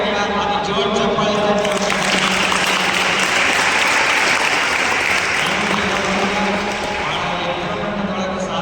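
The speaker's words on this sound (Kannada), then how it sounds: "ಅದು ಜೋರ್ ಚಪ್ಪಾಳೆ" Loud, sustained applause from an audience at a public event in Jamakhandi honoring a local legislator, dense clapping that swells and holds for several seconds with a voice carrying over it.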